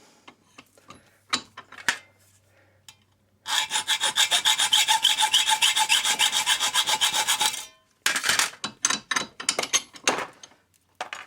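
Cut ends of metal bungee cord hardware are deburred by hand, with sparse scrapes giving way to a sustained run of rapid rasping file strokes, then a brief gap and a few separate, slower strokes, close and clear without talk.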